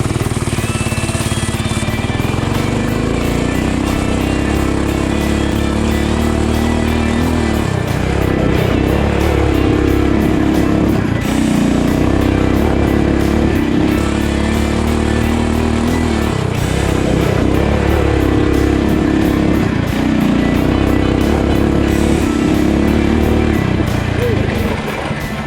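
A Coleman BT200X mini bike with its governor removed buzzes along at full throttle, its small engine droning loud and close, dipping and surging a few times as the throttle is eased off and reopened.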